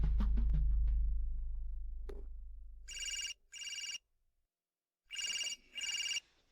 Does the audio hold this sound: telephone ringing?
yes